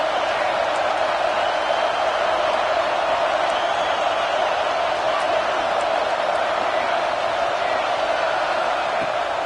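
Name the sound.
football stadium crowd noise during opening drive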